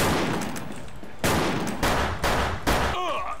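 Video game gunfire cracks out in four sharp, evenly spaced bursts, loud and close, with dense in-game ambience between the shots.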